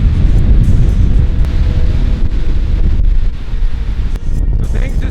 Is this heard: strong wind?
yes